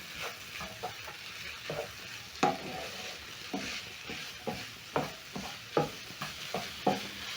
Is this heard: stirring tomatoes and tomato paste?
yes